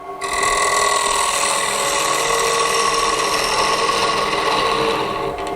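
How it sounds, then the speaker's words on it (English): A wood-turning lathe spins while a gouge starts its cut into the wood, a loud, steady whirring whine with a fine scraping texture that holds throughout. "So what you do, you start the cut with the tip"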